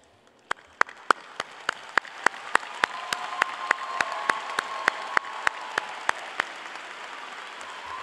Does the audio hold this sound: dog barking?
no